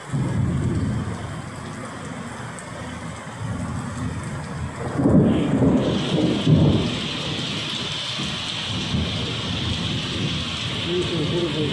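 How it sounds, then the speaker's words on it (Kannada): Heavy monsoon rain pours down in Mangalore, a dense, constant hiss, with a thunderclap booming midway and low rumbles rolling underneath, while someone talks faintly over it. "ಮಿಂಚು ಗುಡುಗು ಕೂಡ ಬರ್ತಾ ಇದೆ ನೋಡಿ"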